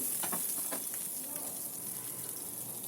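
Cumin seeds and onions frying in hot oil for a bitter gourd curry, a steady close sizzle with a few crackling pops near the start, fading slightly toward the end.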